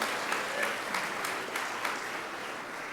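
A crowd at a fifth grade graduation ceremony claps warmly for the students, a steady wash of many hands with a few sharper claps standing out, held at an even level throughout.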